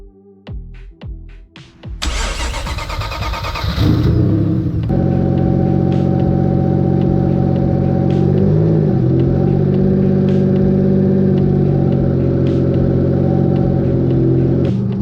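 Turbocharged car engine, being prepped for a track day, cranks with a few clicks, then catches loudly and settles into a steady, close, throbbing idle with slight swells in revs.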